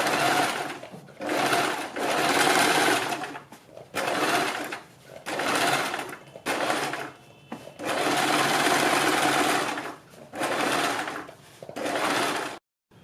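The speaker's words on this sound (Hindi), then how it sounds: "बीच में सिलाई लगाने के बाद हम बुकरम के बिल्कुल बराबर में पूरे गले के ऊपर सिलाई लगाएंगे।" Sewing machine stitching around a garment neckline right alongside buckram interfacing, running in several steady bursts of whirring with short pauses between, close and loud with no talk.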